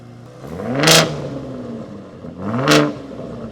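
A Ford Raptor pickup's twin-turbo V6 engine revs twice, each rev rising sharply in pitch then falling back to a low idle rumble.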